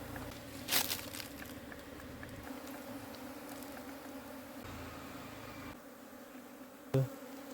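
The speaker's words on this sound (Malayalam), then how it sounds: "തേനീച്ചകളെ ഏകദേശം അകത്താക്കിയിട്ടുണ്ട്" Honeybees are being moved into a wooden hive box, giving a faint steady buzzing drone with a few sharp knocks and handling noises near the start and end.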